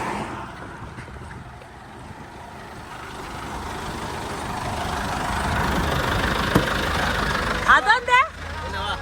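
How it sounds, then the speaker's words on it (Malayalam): Low rumble of a roadside vehicle engine idling after stopping on a road in mountainous Honduras, steady and close, with talk and a few sharp voiced sounds near the end. "എത്രയോ വണ്ടികൾക്ക് ശേഷം ഒരു വണ്ടി നിർത്തിയിട്ടുണ്ട് കേട്ടോ."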